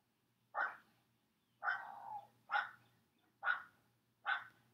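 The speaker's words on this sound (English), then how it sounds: "That is my neighbor's dog." A neighbor's dog barks five times in sharp, evenly spaced single woofs, moderately distant, with no talking over it.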